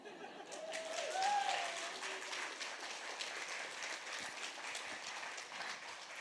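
Soft, distant audience applause in a lecture hall after a poetry reading at a sociology lecture, a light patter of clapping that peaks early and continues at a low, even level.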